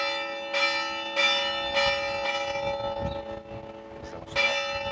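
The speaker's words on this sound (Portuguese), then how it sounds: "talvez seja melhor deixarmos o sino dar o sinal de que estamos nas Trindades" A church bell tolls for the Angelus (Trindades), struck about five times at a slow, steady rhythm with a long ringing hum sustained between strikes, fairly close and clear.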